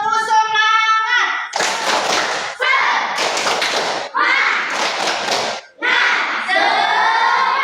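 Classroom of students doing a rhythmic spirit-clapping chant, bursts of group clapping in short patterned phrases separated by brief pauses, with voices chanting along at close range.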